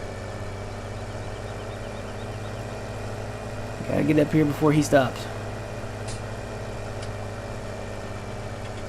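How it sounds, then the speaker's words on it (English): A farm tractor in Farming Simulator 17 strains uphill while towing toward a combine with a nearly full grain tank. Its engine makes a steady low drone throughout, and someone talks over it partway through. "Come on, tractor, pull a hill."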